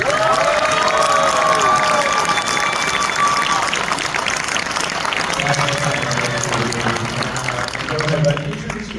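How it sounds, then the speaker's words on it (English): Horror fan convention audience at a Hatchet Q&A, loud sustained applause mixed with cheering and whooping voices, a crowded roar that holds steady throughout with shouts rising over the clapping. "can we please get a round of applause for those that want to see more Hatchet"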